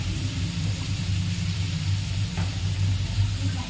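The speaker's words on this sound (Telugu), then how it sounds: "ఇప్పుడు చిల్లీస్ యాడ్ చేసాం కదా, వీటిని అనేది 5 మినిట్స్ అనేది ఇలానే కుక్ చేసుకోవాలి" Chillies cook in a pan of oil over a low flame, giving a steady, continuous sizzle over a low rumbling hum that holds for the whole stretch with no voices.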